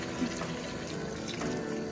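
A steady, continuous pour of chicken stock into a soup pot, close by, with a soft gurgling wash and no voices.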